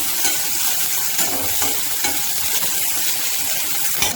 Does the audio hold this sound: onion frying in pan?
yes